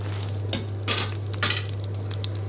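Dried red chillies frying in oil in a pan for chutney: a steady close sizzle with several scraping stirs of a utensil against the pan, over a constant low electrical hum.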